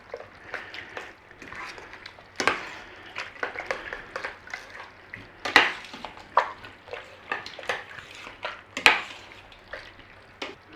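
Steak and onion pie filling being stirred with corn flour in an Instant Pot: irregular scraping, clinking and wet squelching strokes at close range, a few sharper knocks standing out.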